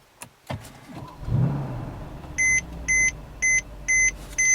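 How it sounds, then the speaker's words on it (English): A 2013 Mercedes CLS 63 AMG's engine cranks and rumbles to life after a push-button start, followed by a series of five evenly spaced electronic seatbelt-warning chimes from the dashboard. "Let's hear the engine roar to life"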